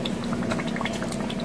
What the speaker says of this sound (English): I got the pan of water boiling right now on the stove here.